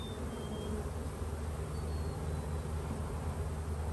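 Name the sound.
honeybees buzzing in a hive about to swarm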